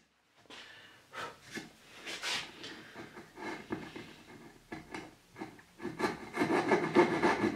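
Fret or coping saw cutting out the waste between hand-cut dovetails in wood, a steady series of close, rasping back-and-forth strokes that grow slightly louder toward the end.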